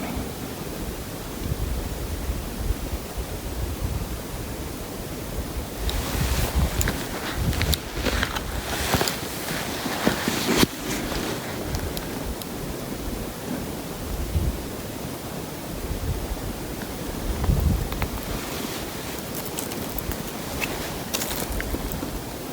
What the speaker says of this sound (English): That good wind.